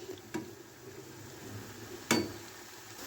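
Food simmers in milk over a high flame, a faint, steady low bubbling with two sharp utensil clinks against the pan, one early and one louder near the end.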